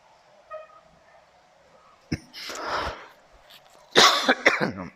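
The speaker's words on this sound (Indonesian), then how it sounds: "Batuk nih." A person coughs twice, a short harsh burst followed later by a louder, rougher cough that trails into throat-clearing sounds, close and alone.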